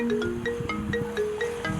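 Mobile phone ringtone of an incoming call repeats a short, bright electronic melody, loud and close, playing alone without voices in a Maithili comedy scene.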